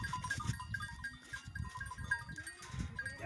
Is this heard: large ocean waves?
no